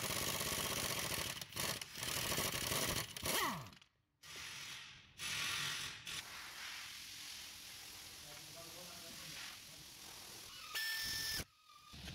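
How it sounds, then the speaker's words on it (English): Socket on a long breaker bar loosening the rear shock absorber nut on a Mazda 6 or CX-5, heard as close metallic ratcheting and clanking in uneven bursts, with brief silent gaps and a loud final clatter. "Attach the socket to a long breaker bar and loosen it."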